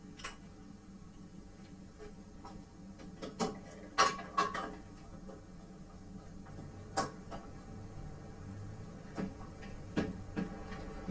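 A hex wrench tightens 1/4-20 cap screws on a Norton 5800 Series automatic door operator mounting bracket, sounding as sparse, close metallic ticks and clicks scattered irregularly over a quiet background.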